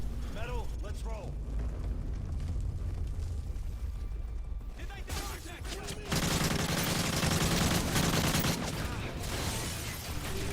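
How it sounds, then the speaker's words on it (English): Gunfire and a flashbang in Call of Duty: Modern Warfare 3 during an indoor firefight, with rapid bursts of shots, a sharp bang, and a dense, loud barrage of automatic fire over continuous game noise, with a voice talking over parts. "I'm actually going to toss a flashbang in there because there was enemy shots coming"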